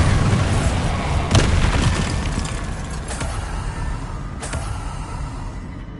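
Blasting spell explosions from Hogwarts Legacy, a couple of sharp booming bursts rising out of a dense, loud game soundscape of combat rumble.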